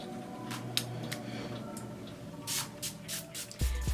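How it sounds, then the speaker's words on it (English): Farsali setting spray misted onto a face, a series of short airy spritzes in clusters, close and soft against a quiet room. "now I'm gonna go back to my Farsali spray to set everything into place"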